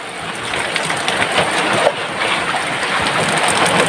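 Steady rain pours at sea, a dense, even hiss of falling drops close around, with a few sharper splashes and a low rumble of wind and water underneath.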